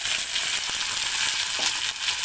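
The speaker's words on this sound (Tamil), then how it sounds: "இப்ப கட் பண்ணி வச்சிருக்க கோவங்காவை ஆட் பண்ணிக்கலாம்." Chopped ivy gourd fries in hot oil in a pan with onion, a steady, close, continuous sizzle and crackle that carries alone throughout.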